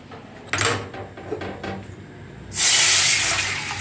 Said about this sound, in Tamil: ஒரு டம்ளர் தண்ணி ஊற்றி